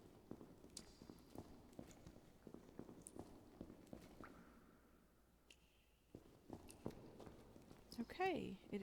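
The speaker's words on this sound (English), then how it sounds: "that is myself walking" A player character walking through a cave in a video game, with soft, regular footsteps, fairly faint, and a person talking over them.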